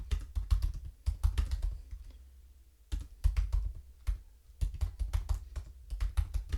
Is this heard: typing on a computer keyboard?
yes